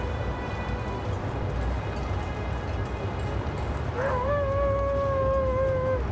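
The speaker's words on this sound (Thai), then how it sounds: "อ่ะเสียงหมาละ" A wolf howling in the survival game The Long Dark, a single drawn-out wavering howl rising over steady wind noise in the second half, fairly distant.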